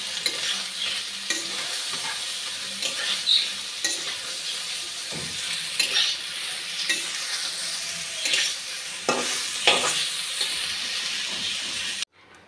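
Eggplant fries in a pan with a little sugar, giving a steady close sizzle with occasional stirring scrapes and clicks that carry on throughout before cutting off at the end.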